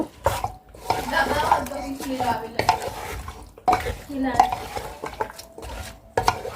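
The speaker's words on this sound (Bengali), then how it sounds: "তো মশলা আর কি মাংসটা আমি একসাথে এভাবে এখন মিশাইয়ে তারপরে চুলার উপরে দেব" Meat and spices being mixed together by hand in a pot before cooking, giving close, continuous wet stirring and squishing with occasional clinks against the pot, under intermittent talk.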